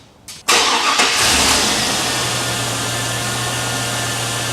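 A 2000 Chevrolet Suburban with a freshly fitted alternator cranks briefly, catches loudly and settles into a steady, even idle that continues alone.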